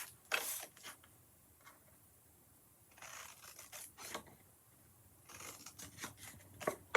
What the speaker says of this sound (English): So I'm going to cut on the score line.